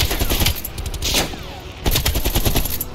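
Rapid, loud gunfire fills a Call of Duty Cold War match, with shotgun blasts and bursts close and dense throughout, broken by a short lull in the middle.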